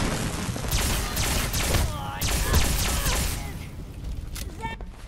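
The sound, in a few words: pulse grenade exploding in Fallout 4 video game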